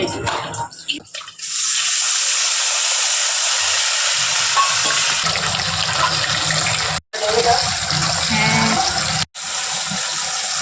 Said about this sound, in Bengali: এই মাছ ভাজাটা হতে থাকুক